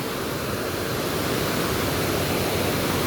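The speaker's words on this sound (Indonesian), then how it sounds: "Ini lagi hujan agak besar juga." Heavy rain falling near a river, a dense, unbroken hiss that is loud and steady across the whole stretch, with no voices.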